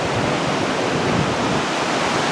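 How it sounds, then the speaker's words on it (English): A river rushes past old stone mill ruins in Roswell, Georgia, giving a dense, even, constant roar of flowing water close by, with no speech. "The river itself is incredible."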